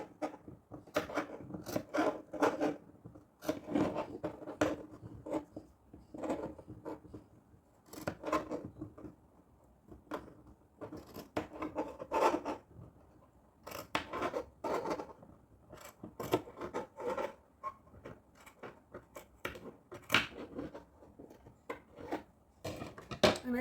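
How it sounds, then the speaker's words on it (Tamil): Tailoring scissors cut fabric along a curved neckline, with repeated close snips and blade crunches in irregular bursts throughout and short pauses between cuts. "இந்த வளைவில் மட்டும் கட் பண்ணி கொடுத்துடலாம். அந்த ஸ்டிச்சிங்கில் படாமல் கட் பண்ணணும்."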